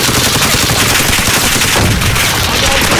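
Rapid gunfire from a video game where players carry sniper rifles, loud and continuous across the whole stretch, dense sharp shots with no pauses.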